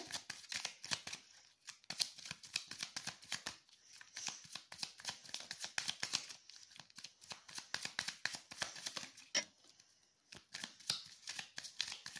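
Tarot cards being shuffled and drawn for a card reading, rapid riffling and flicking bursts, close and fairly quiet, with brief pauses between runs.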